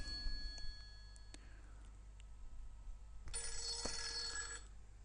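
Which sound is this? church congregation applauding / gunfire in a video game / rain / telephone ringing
telephone ringing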